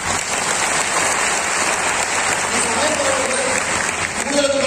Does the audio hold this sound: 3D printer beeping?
no